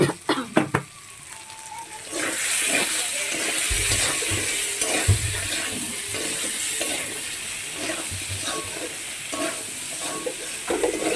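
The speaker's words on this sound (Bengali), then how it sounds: "একবারে কষিয়ে নিলাম" Potato and paneer curry, seasoned with salt and turmeric, sautéing in a pan: a steady close sizzle with scraping stirs throughout, after a few sharp utensil clinks at the start.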